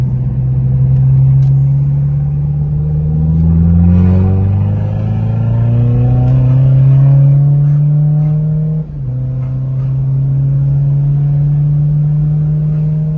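A BMW 420d diesel car drives steadily with a loud, close engine drone that rises through the gears, with a brief dip around a gear change before settling at a constant cruise.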